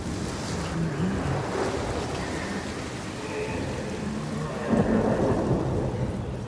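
A stormy soundscape from the video game Hellblade 2, with continuous heavy rain and rolling thunder, maybe with surf mixed in, and a louder rumble swelling near the end.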